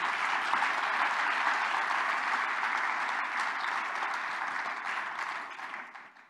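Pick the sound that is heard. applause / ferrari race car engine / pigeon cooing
applause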